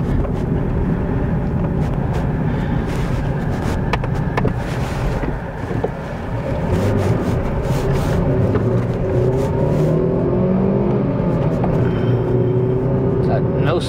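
A 2012 Kia Soul with a newly replaced clutch drives on a test run, its engine a steady loud drone with rising and falling revs mixed with road and wind rumble throughout.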